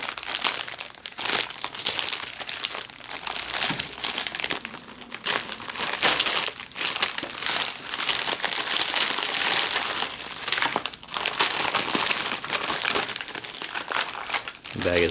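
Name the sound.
crinkling the inner plastic bag of an MRE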